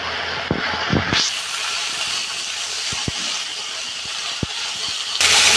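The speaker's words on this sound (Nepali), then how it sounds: "साग राख्दैछु। यसलाई हाफ फ्राई गर्ने।" Greens hitting hot oil in a pan for half-frying give a steady broadband sizzle and hiss, with a few brief clicks and pops and a sharp flare near the start and again at the end.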